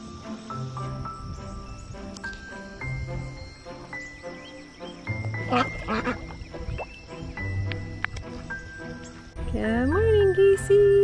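Farm ducks and geese on a summer morning in the Ozarks quack and honk in close, busy bursts. Chirping insects and a low voice carry on underneath.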